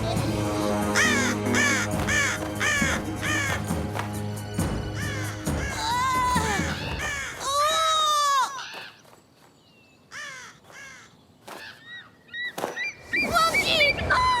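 Animated cartoon birds attacking, dense flurry of loud cawing and squawking cries piled over a busy score, thinning to scattered sharp calls, then swelling again near the end.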